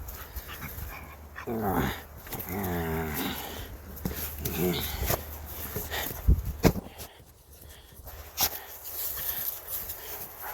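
A dog makes low growling and whimpering sounds close by, with a few sharp bumps and rustles mixed in.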